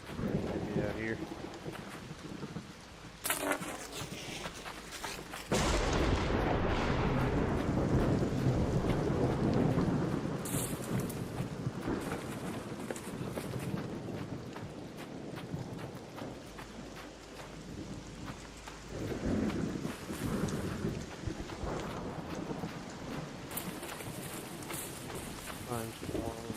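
Stormy weather in the video game Arc Raiders: a long bed of heavy rain and wind with several loud rolling thunder crashes, while a player talks over it now and then.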